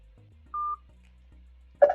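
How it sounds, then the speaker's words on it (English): A single short electronic beep tone on a phone call marks the start of voicemail recording, sounding clean and steady over a faint low hum, followed by a brief burst of noise. "Please leave a message after the tone."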